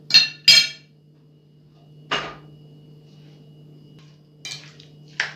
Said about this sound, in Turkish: Tüm malzemeleri güzelce karıştırıyoruz.